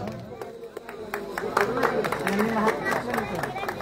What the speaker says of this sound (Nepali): ताली दिएर स्वागत गरिदिनुहोस्।